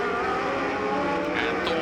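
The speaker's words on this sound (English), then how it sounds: "And Thornton in that Lotus 82, the JPS coloured" A JPS black-and-silver Lotus 82 Formula 1 race car passes with a steady, loud, high-pitched engine whine over a commentator's voice.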